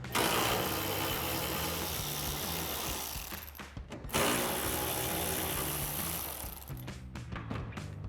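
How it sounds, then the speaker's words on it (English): A ratchet with a 10mm socket turns out the taillight bolts on a 2016-2023 Toyota Tacoma, giving steady close clicking with a brief pause midway and no talk. "So we'll grab our ratchet and 10mm socket,"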